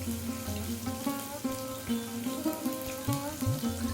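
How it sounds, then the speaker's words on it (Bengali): Onion paste frying in spiced oil for a Bengali mutton curry, a soft steady sizzle and crackle under a tonal musical background. "মশলার সুগন্ধ বেরিয়ে আসলে এটার মধ্যে দিয়ে দিচ্ছি এখন আমি পেঁয়াজ বাটাটা"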